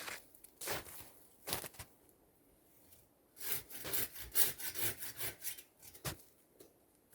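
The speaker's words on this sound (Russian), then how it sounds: "Значит, надо пилить с этой стороны." Hand saw cutting through wood in short bursts of rasping strokes with pauses between them, then a longer run of quick strokes, close by.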